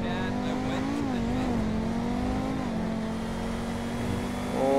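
A hypercar in the video game GTA 5 accelerates with a buzzing, rising engine tone that shifts through gears, dipping and climbing again, fairly quiet and continuous with no talk over it.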